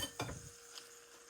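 Steamed shrimp and seafood stirred and mixed in a pot, a single soft scraping stir near the start, then faint wet shifting that fades out.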